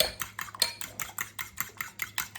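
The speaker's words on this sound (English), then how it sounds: "And I'm gonna add it back into my bowl, kind of mixing as I go." Spoon clinking and scraping around a bowl while orange custard is stirred, a quick regular rhythm of bright metallic taps, close and clear with no talk.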